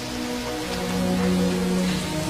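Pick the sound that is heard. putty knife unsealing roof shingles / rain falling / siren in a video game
rain falling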